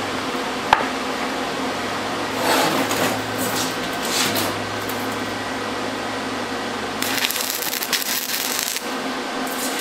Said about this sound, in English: Now we're too low, the way that was sputtering